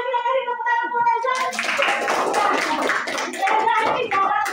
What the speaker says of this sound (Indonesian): tepuk tangan buat Reza